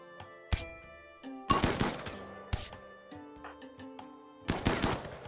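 Assault rifle gunfire in the RimWorld video game, heard as several loud bursts of shots spaced through the clip over a soft bed of game music.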